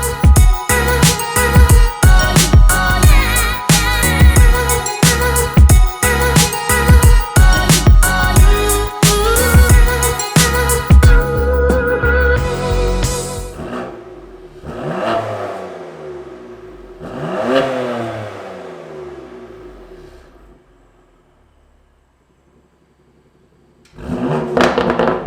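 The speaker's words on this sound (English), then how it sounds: "And that was the Remus axle-back exhaust for the 2018 BMW M2 Competition." A 2018 BMW M2 Competition fitted with a Remus axle-back exhaust revs hard and loud with rapid throttle blips, then settles into a few slower, swelling revs and a quiet idle before one last burst.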